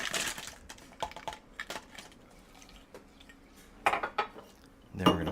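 Fresh ice cubes clatter into a cup for homemade boba milk tea, giving a few sharp clinks and rattles in bursts, loudest near the end, with quiet pauses between.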